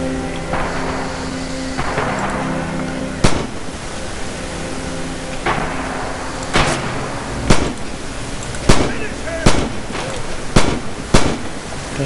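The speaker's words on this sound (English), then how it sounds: "They're shooting back at me in there" Gunfire in the Red Orchestra 2 battle at Stalingrad's Red October factory: repeated sharp shots crack over a constant loud battlefield rumble, spaced irregularly and bunching closer together toward the end.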